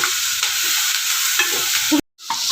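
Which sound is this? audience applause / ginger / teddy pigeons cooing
ginger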